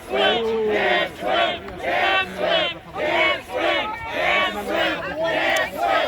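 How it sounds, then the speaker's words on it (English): Dense crowd of protesters chanting in unison on a campus at Penn State, loud regular bursts of shouted voices repeating a cadence roughly every second, with no pause between phrases. "And the chanting is a whole new level now"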